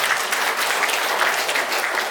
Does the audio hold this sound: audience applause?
yes